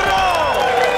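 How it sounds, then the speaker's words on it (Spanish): A studio audience on a Latin American TV show cheers, whistles and applauds loudly as guest star Burro Van Ranken is welcomed, a dense continuous crowd roar with raised voices throughout the brief moment. "¡Ovación! ¡Ovación tremenda!"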